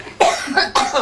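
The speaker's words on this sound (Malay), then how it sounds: "Oh, tiga kali dia batuk ni." Three loud, close coughs in quick succession from one person, with short pauses between the bursts and no other sound.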